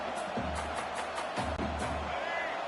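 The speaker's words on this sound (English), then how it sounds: "This crowd trying to make life miserable for this offense." Roaring stadium crowd at an LSU college football rivalry game, a steady dense wash of cheering and noise filling the whole moment, with a commentator's voice over it.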